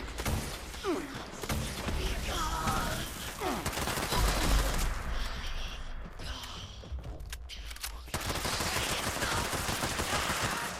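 Sustained automatic gunfire rattles in a Fallout 76 fight inside a greenhouse, with dense bursts, brief lulls and a heavy thud, then rapid firing resumes and carries on loudly.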